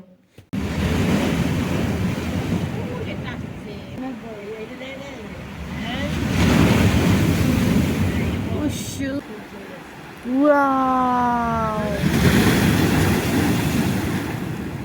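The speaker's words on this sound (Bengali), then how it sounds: "এই ঢেউগুলো দেখেই না প্রাণটা পুরো জুড়িয়ে যাচ্ছিল" Sea waves break on Digha beach in the morning, a steady broadband roar of surf that swells and ebbs across the whole stretch, with a brief tonal call near the end.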